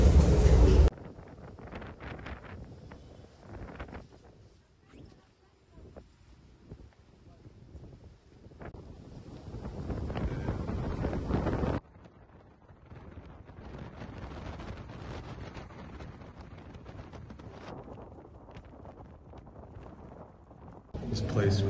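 Gusty wind high up on a Porto clock tower buffets the microphone in loud rumbling bursts that rise and drop, with a person talking at times.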